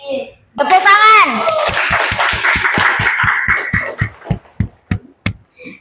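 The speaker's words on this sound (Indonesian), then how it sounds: "Tepuk tangan." In an Indonesian school classroom, children's voices call out together, then the group breaks into loud rhythmic clapping in a steady beat that slows into a few separate, spaced claps at the end.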